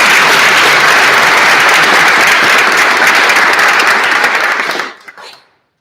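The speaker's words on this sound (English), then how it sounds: "So I'll just ask for another round of applause." Loud audience applause after a debating grand final at a national schools championship, sustained full-room clapping that holds steady for about five seconds then cuts off abruptly, leaving a few scattered claps.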